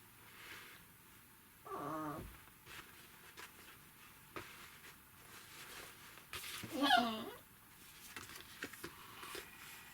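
A dog whimpers indoors in two short bursts of high, wavering whines, one early and a louder one later, over a quiet room background.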